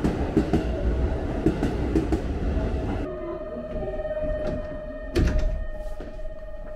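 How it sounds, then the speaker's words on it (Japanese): Deep rumbling of a commuter train departing Osaka Station with clanks and thuds, settling into a steady low hum with a sustained tone as it pulls away; one loud knock midway. "電車は予定通り6時33分に大阪駅を出発します"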